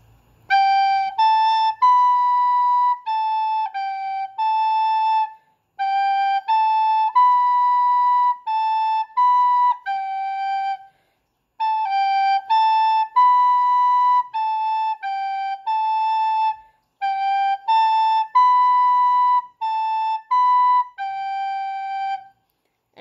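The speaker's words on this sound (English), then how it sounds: "I can take my recorder and actually start playing." A recorder plays a simple, clear melody alone, note by note in short tongued phrases with brief pauses between them.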